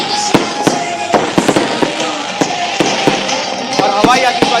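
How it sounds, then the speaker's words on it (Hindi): Aerial fireworks burst over a Makar Sankranti celebration in Jaipur, a rapid volley of sharp cracks and pops crowding together, with crackling fizz between blasts and a busy crowd murmuring underneath. "अब आप देख रहे हैं कि यहाँ पर हवाई आतिशबाजी शो का आयोजन हो रहा है"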